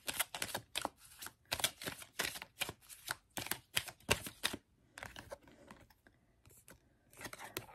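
Tarot cards are drawn and handled up close in quick, crisp flicks and taps, dense bursts of clicking shuffles with short pauses and no voices.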